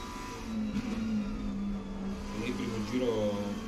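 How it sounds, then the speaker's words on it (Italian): A GT3 race car engine in the racing game Assetto Corsa Competizione drones steadily, rising slightly in pitch toward the end, with other cars and a faint voice mixed underneath. "Sentite che motore di questa GT3."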